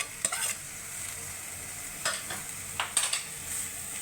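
Grated paneer and pointed gourd being stirred in a frying pan, a steady low sizzle broken by several scraping stirs with a spatula, close up and with no talking.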